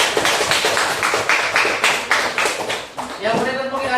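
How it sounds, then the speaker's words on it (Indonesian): Students in a 2024 sociology classroom give a round of applause for a classmate, quick bursts of clapping from several people nearby, fairly loud and uneven, fading and slowing toward the end. "Tepuk tangan dulu untuk teman Anda."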